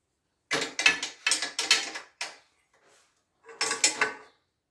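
A small wrench ratchets in a series of short metallic bursts while tightening the foot of a Geberit support frame, with a brief pause before a final cluster of clicks.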